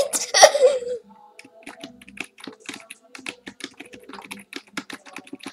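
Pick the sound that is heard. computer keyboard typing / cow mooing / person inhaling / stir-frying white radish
computer keyboard typing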